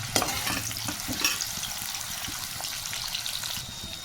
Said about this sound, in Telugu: ఇప్పుడు ఆయిల్ వేడవుంది కాబట్టి కాకరకాయ చిప్స్కి ఆయిల్లో కొంచెం కొంచెం వేసుకుని ఫ్రై చేసుకోవాలి